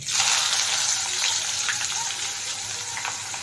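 Chopped onions dropped into hot oil with bay leaf for a Bengali mutton and potato curry give a loud, close, continuous sizzle and hiss that holds steady throughout.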